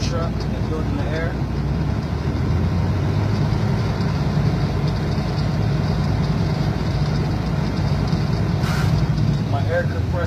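A heavy truck's diesel engine idles with a steady, low rumble inside the cab while air pressure builds, running continuously and fairly loud, with faint hisses and a brief click partway through.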